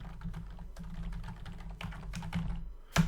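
Typing on a computer keyboard to enter text into a spreadsheet: a rapid, irregular run of close, crisp key clicks with a louder keystroke near the end.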